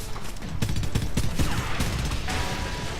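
Rapid bursts of automatic gunfire from Call of Duty Modern Warfare crackle in close, uneven volleys, mixed with mechanical clicks and rattles, moderately loud throughout.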